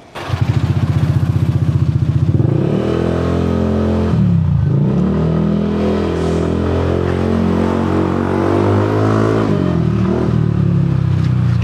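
Yamaha NMAX V3 scooter fitted with an RS8 CVT and an open exhaust, revving loud and close: a sharp burst of throttle, then rising and falling engine pitch held at high revs, with no talk.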